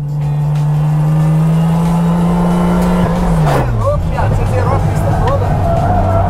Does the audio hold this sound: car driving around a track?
yes